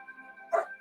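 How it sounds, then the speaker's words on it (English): A single short dog bark, a brief sharp yip standing out once over a quiet tonal hum in the background. "You over here barking, go see."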